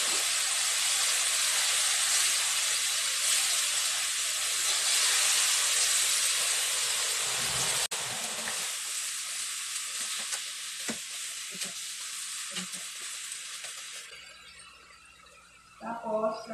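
Bitter gourd (ampalaya) sizzles steadily in a hot pan, with a loud continuous frying hiss that eases partway through, then scraping stirs and a person speaking near the end.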